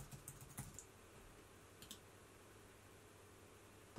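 Quick light keystrokes on a computer keyboard, typing a single short word, a brief cluster of faint clicks at the start and then near silence under a low hiss.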